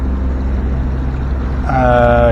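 A sailboat motors along under its engine in light wind, a steady low droning hum with rushing air, and a voice starts speaking near the end.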